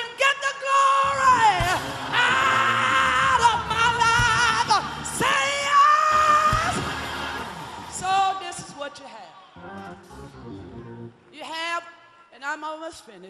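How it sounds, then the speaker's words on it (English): A church congregation at a Holy Convocation service shouts, whoops and yells in loud, overlapping bursts that swell, fade and return, with voices ringing in a large reverberant hall. "Somebody scream, get the glory."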